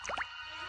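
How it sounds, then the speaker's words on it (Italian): Two quick water drops plop in a cave, dripping from stone formations: close, crisp and brief, followed by quiet hollow room tone. "I denti di pietra perdono acqua."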